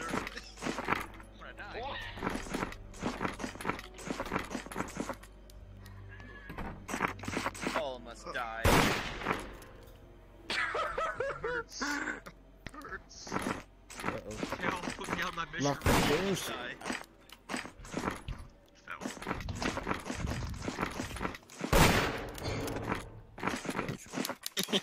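Gunfire in the VRChat game Murder Jar 2, with sharp shots and rapid bursts scattered through the scene among mechanical clicks, while people talk throughout.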